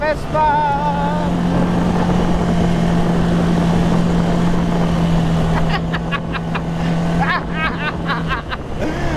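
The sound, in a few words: Vespa scooter engine while riding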